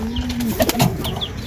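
Pure Gordon racing pigeons coo softly at close range in a loft, a few low warbling calls with faint rustling behind them.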